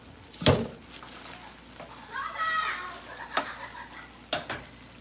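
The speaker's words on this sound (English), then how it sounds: "The eggplant is cooking, so that's good." Eggplant fries in a pan at home with a soft sizzle, broken by a few sharp clatters of a utensil stirring and scraping, close and moderately loud, with faint background voices.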